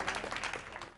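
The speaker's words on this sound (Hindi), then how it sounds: "एक बार जोरदार तालियां बजाते हैं" A seated gathering at a Jain religious discourse applauds loudly, dense steady clapping filling the whole moment without pause.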